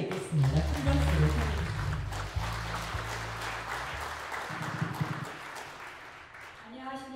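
A crowd applauds to welcome the Liberty Korea Party floor leader as she comes up to speak at a welfare event for visually impaired people, with clapping spread across the hall under a voice talking over a loudspeaker.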